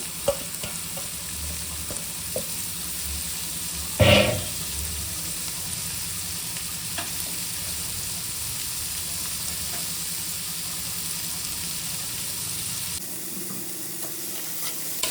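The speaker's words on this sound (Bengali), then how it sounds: "এবার এটাকে একটুখানি সটে করা হবে যতক্ষণ না হালকা নরম হচ্ছে।" Carrot, capsicum, beans and chopped green chilli sauté in a pan for chowmein, a steady low sizzle with occasional stirring scrapes and one louder clatter early on, continuing until the sound suddenly drops near the end.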